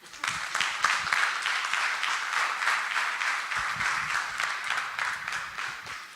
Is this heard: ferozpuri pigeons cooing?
no